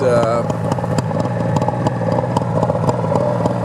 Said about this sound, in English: You can hear how smooth the motor is.